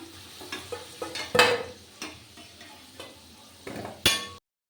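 Whole spices, garam masala, bay leaf and two dried red chillies, hitting hot oil in an Assamese local chicken curry, giving sharp crackling bursts and scattered pops over a low sizzle, close and loud.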